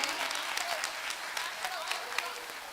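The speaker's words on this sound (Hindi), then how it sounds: "एक बार जोरदार तालियों के हकदार तो ये हैं।" Audience at a women's group community program applauding performers, a continuous full burst of clapping at steady strength with a few crisp claps popping out, voices faintly mixed in.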